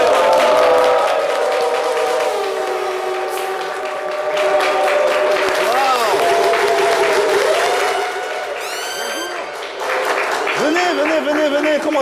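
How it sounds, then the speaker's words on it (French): An audience applauds a guest invited onto the stage of a French-language talk show, loud sustained clapping with cheering close by while a presenter talks and music plays under the crowd. "Applaudissez-la bien fort."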